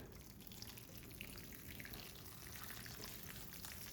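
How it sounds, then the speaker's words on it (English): Water poured onto the soil of a freshly repotted houseplant gives a quiet, continuous trickling and fizzing sound, close and faint, with no speech. "I'm going to go ahead and pour a little bit more water on it."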